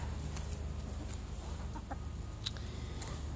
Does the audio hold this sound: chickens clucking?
yes